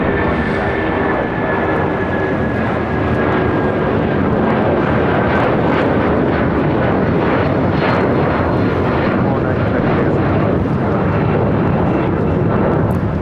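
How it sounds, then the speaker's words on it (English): A United Airlines Boeing 757-200 takes off from LAX, bound for Houston, with a loud, steady broadband jet roar that holds for the whole stretch. A faint high engine whine sits on top of the noise. "That is United Airlines 2495 taking off to Houston Intercontinental on a 757-200"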